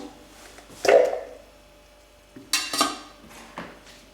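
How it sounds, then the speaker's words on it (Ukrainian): Metal clanks and scrapes of a utensil against a saucepan as mushroom soup is transferred into it, a loud knock near the start, then a few softer scraping clatters, no talking. "Тепер далі переміщаємо це все в нашу кастрюльку."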